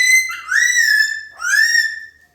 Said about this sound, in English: Are you whistling for Papa?